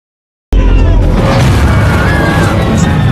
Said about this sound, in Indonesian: Kemudian terjadi ledakan yang hebat di dalam pesawat